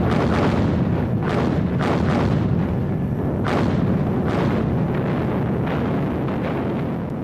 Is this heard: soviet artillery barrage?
yes